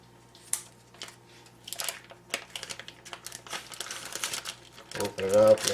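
Plastic packaging on a pork tenderloin is cut and pulled open with a knife, giving a run of crinkles, snips and rustles that grow busier and louder toward the end.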